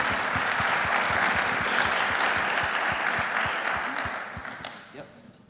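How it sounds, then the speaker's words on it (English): Audience applauding an award announcement at a demo day event, full, sustained clapping close by that fades toward the end, with some voices underneath. "Big round of applause."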